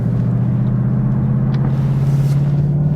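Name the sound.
2022 Ford Mustang GT Premium setting off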